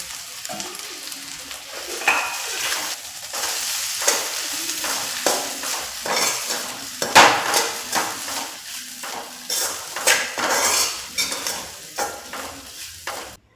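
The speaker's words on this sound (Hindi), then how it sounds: "तो डाल देती हूँ यहाँ हरी मिर्ची और प्याज, और फिर डाल दिए हैं पोहे।" Poha with green chilli and onion cooks in a pan, sizzling steadily while a utensil stirs and scrapes against the metal in irregular, close strokes.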